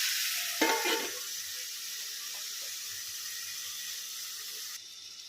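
Chopped onions frying in a covered pan, a steady soft sizzle and hiss running evenly throughout, with a brief louder burst of crackle near the start and no voices.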